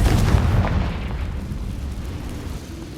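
A Confringo fire spell explosion in Hogwarts Legacy bursts with a heavy, rumbling boom that fades over a few seconds, with no talking.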